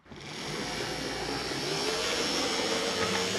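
An early 1970s Life-Like model train drive motor spins up from silence into a steady, high-pitched whirring hum that holds evenly and slightly strengthens, close and alone with no voices.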